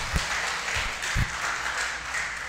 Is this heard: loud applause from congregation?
yes